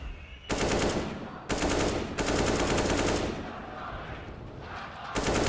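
Rifle fire from CS:GO on the Inferno map, heard as loud bursts of rapid shots broken by short pauses, while a commentator's voice runs through the mix.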